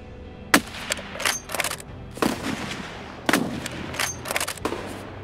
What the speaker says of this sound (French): Les échanges de coups de feu sont proches